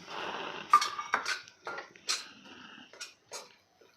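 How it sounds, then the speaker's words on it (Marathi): Dry date powder being stirred in ghee in a pan, heard as a handful of clinking, scraping utensil strikes against the metal with short pauses between them. "आता ही आपल्याला दोन ते तीन मिनटे फक्त तुपामध्ये परतवून घ्यायची आहे"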